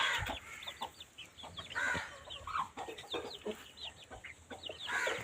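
Several hens cluck and chatter close by in an irregular, overlapping stream, with short squawks breaking through the steady murmur.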